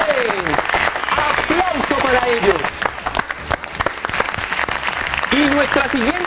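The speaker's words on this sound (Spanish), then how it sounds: "Aplauso" Studio audience of a TV game show applauding, a loud clapping wash heard under a host's lively voice and background music throughout.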